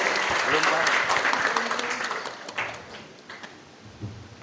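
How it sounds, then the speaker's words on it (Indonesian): Applause for Maya at a motivational seminar for students at an Islamic boarding school, a dense burst of clapping that fades over a few seconds into scattered claps and a low voice. "Iya, tepuk tangan buat Maya hari ini."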